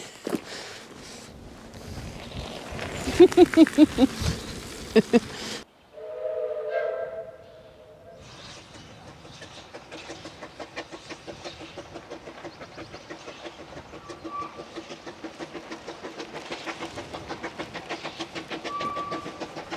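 A steam train chuffs and clatters past outdoors in Wales, with a bright whistle blast in the middle, then steady rhythmic rail clicking continues.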